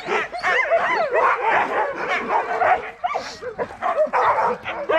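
Several sled dogs in the Arctic bark, yip and whimper excitedly together, close and continuous, a chaotic overlapping chorus of high-pitched yelps and whines.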